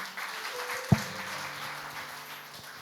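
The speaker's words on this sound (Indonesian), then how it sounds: "Tepuk tangan dong buat Yoel." Congregation applause at an online church worship service, a soft diffuse patter of clapping with one sharp thump near the start, fading gently and staying fairly faint throughout.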